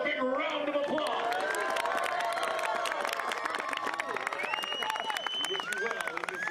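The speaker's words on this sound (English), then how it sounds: "Let's give them a big round of applause." Crowd applause and cheering for the sophomores of the 2021 men's soccer team at a college match, steady clapping with whistles and voices mixed in throughout.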